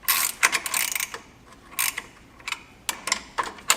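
A brake line flaring tool is worked on a Pontiac's brake line, giving a series of short metallic clicks and ratcheting creaks in uneven bursts, close by and moderately loud.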